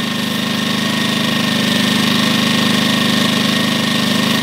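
A Champion 2000W inverter generator runs steadily with economy mode off, at a constant, fairly high speed, its buzzing hum loud and close with no other sounds.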